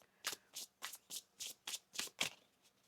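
Tarot cards are shuffled in quick riffles, about eight crisp bursts in a steady rhythm, close and fairly quiet.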